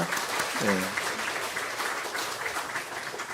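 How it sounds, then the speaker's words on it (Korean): A church congregation applauds during a Sunday worship service to encourage a young man home on leave, steady sustained clapping filling the room, with a brief voice rising over it near the start. "박수로 격려해 주시기 바랍니다"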